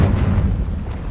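A Confringo blasting spell explodes in Hogwarts Legacy, a dull booming burst with a low rumbling body that fills the moment without any talking.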